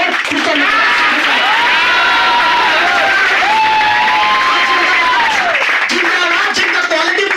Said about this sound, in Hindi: एक जोरदार ताली चाहूंगा मेरे मेंटोर।